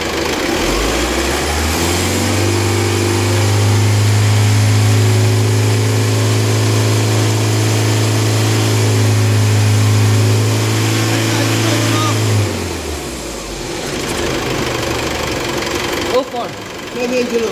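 Common rail diesel engine held steady at 3,000 RPM, a loud, constant droning hum that holds evenly for about twelve seconds, then drops off as the revs fall back to a lower idle.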